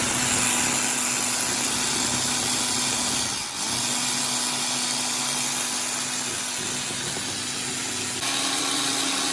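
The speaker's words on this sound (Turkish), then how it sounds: "Mikserimizi alıyoruz." A small electric hand mixer froths milk, whirring steadily at a high pitch, with a brief dip in the motor partway through, then running on evenly.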